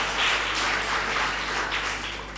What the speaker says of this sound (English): I request all the student community to give a good applause to Professor Ramkrishna Rao garu